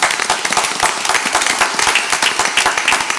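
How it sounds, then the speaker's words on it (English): A group in a school board meeting applauds steadily, dense overlapping handclaps filling the room at close range, with no talk over them. "so a round of applause, I think, is..."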